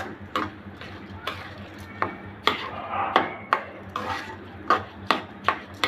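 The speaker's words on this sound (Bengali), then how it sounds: "এখন ভালো করে মশলার সাথে মিশিয়ে নিব" Rice being stirred and fried with spices in a pot for prawn biryani: repeated sharp scraping and clinking strikes of a spoon against the metal pot, irregular and close, with no voices.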